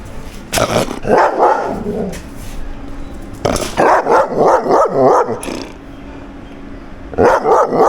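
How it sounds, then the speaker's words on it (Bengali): Dogs in cages at a park barking, loud close bursts of several barks in separate clusters with short gaps between. "এখানে কয়েকটা ডগের কেজ অনেকগুলো ডগ রয়েছে এখানে"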